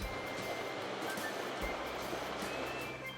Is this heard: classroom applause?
no